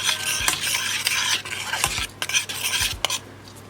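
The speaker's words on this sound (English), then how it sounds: "I'll be stirring until I notice it's gone a bit brownish." A utensil stirs and scrapes through sizzling, bubbling aloe vera oil in a pot, with several sharp clinks against the pot over a continuous hiss.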